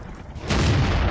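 A single heavy tank cannon shot in World of Tanks, from a Bat Chatillon 25 t, booming loud and close, then a sustained rumbling tail.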